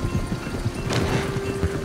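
A horse in Red Dead Redemption 2 trots close by, its hooves clip-clopping in a quick, steady rhythm, with a snort or brief whinny partway through.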